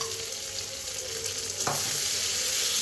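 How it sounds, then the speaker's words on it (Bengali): Ginger paste fries in hot oil with an even, close crackling hiss. Near the middle comes one brief scrape or tap from a spoon. "আদাও ভাজা হয়ে গেছে আমার"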